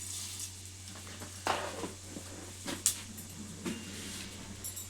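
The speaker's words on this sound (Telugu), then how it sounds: "ఇవి కొంచెం చిడిచిట అన్న తర్వాత" Cumin and mustard seeds crackle in hot oil for fish curry, with scattered sharp pops and splutters over a quiet background hum, and no one talking.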